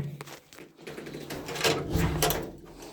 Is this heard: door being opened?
yes